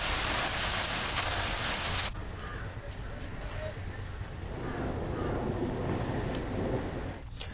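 Heavy rain with strong wind and hail pounds a fair at Mahidpur in Ujjain, a dense, loud, steady hiss of drumming drops that briefly drops back before swelling again.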